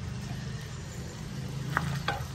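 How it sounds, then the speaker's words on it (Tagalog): Potatoes and white onion fry in oil for a corned beef lunch, giving a steady close sizzle with a couple of brief stirring scrapes near the end. "nagprito na ako ng patatas at saka nitong sibuyas. Itong white onion."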